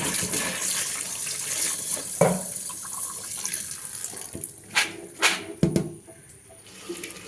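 Soaked beans washed under running tap water, starting as a steady stream into a vessel and then becoming intermittent splashes and sloshes, close by with no talk.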